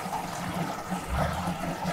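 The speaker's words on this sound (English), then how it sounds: "I'm pouring the water into my drum" Water pouring steadily into a plastic drum for a hand wash system, a continuous splashing, filling wash heard up close for about two seconds with no voices.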